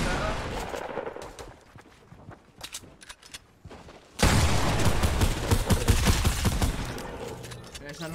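Rapid bursts of Fortnite gunfire rattle loudly, first scattered and sparse, then a dense, sustained barrage of shots.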